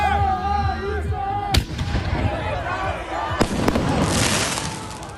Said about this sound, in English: the second firework went off over the encampment